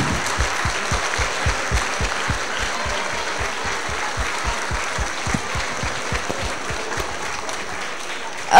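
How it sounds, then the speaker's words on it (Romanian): Sustained audience applause at a high school Christmas show in Brașov rolls on over a steady rhythmic low thud, fairly even in loudness throughout. "Aplauze la greu."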